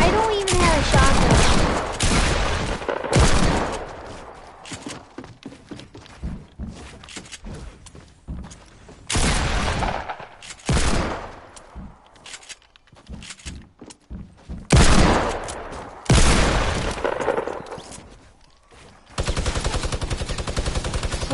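Minigun fire in a video game, heard as dense sustained bursts of rapid shots that start and stop repeatedly, loud and close, with thuds and a voice speaking in between.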